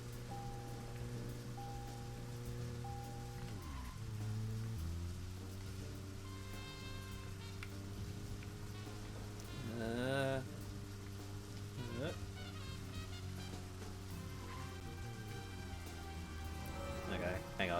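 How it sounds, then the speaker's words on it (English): Steady rain hisses and patters continuously beneath a low car engine drone in the video game Deadly Premonition, with occasional tonal sweeps rising and falling over the wash. "Oh boy, it's raining."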